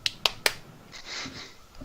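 Three quick, sharp, thin claps in a tabletop role-playing session, evenly spaced and close, followed by quieter soft rustle.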